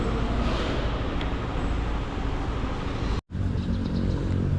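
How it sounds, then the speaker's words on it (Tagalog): A Kawasaki motorcycle engine runs at a steady idle during an LTO registration inspection, a continuous low rumble with a brief dropout near the end before it resumes. "Kawasaki motorcycle."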